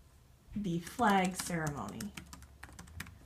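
Clicking of a computer keyboard as text is typed, light taps scattered through the clip, partly under a person speaking over it.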